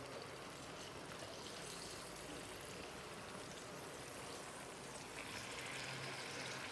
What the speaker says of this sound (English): our puree is starting to boil